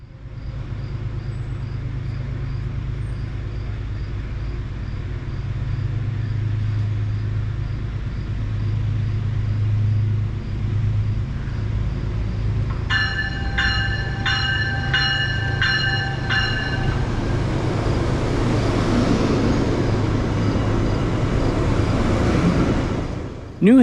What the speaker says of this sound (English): Metro North train 1897 is seen departing westbound on track 3 with an E-Bell equipped cab car leading the